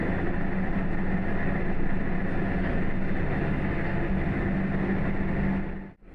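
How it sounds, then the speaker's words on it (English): Nishikigawa Clear Stream Line train running on its route in Yamaguchi, a steady continuous rumble of wheels and motor heard from on board, loud and unbroken, fading out sharply at the very end. "The train is approaching its next stop, Nishi-Iwakuni."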